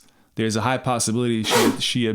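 A single sneeze bursts out in the middle of a man's conversational speech, close and fairly loud, with talking continuing around it.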